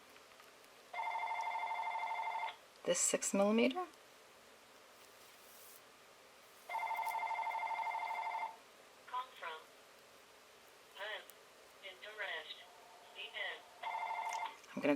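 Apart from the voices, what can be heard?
telephone ringing, then answering machine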